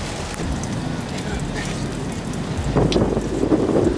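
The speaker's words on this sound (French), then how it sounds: "La pluie, la grêle, quel bonheur." Rain and hail patter in gusty wind, a dense rushing noise that grows louder in the last second or so.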